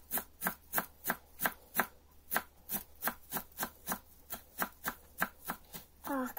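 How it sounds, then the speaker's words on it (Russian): Dill chopped finely with a knife on a board: a fast, even series of crisp blade knocks, about three per second, close and clear, ending in a brief burst of another sound. "Сразу порежем укропчик мелко"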